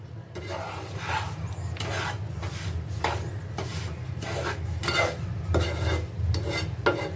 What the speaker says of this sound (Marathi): आणि मिश्रण परत सर्व ढवळून घेणार आहोत एक एकजीव करणार आहोत